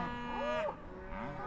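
A cow moos twice, a long, strong moo followed after a short pause by a lower, shorter one, close and clear with no other sounds.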